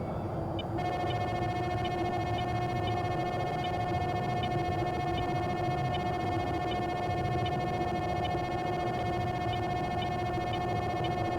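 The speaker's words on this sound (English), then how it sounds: "This is the sound of being radar locked by someone else." A steady electronic radar lock warning tone in VTOL VR's EF-24G, a high pitched repeating beep pattern, continuous and loud against a constant droning background hum.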